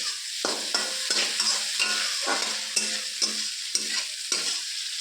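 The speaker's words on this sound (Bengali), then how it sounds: "ভালো করে নেড়ে চেড়ে নিচ্ছি চিংড়ি মাছটাকে পেঁয়াজের সঙ্গে।" Prawns fry with onion in a wok and are stirred, a bright sizzle under rhythmic, regular scraping strokes of a spatula, close and fairly loud, with no speech.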